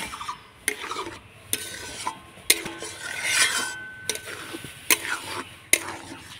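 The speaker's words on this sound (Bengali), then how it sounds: "তো এভাবে অনবরত নাড়তে নাড়তে একটা ডোয়ের পরিণত করে নেব।" A spoon scrapes and stirs thick semolina dough around a pan for a white sweet, with repeated sharp clinks against the metal over a soft sizzle, close and steady with no talk.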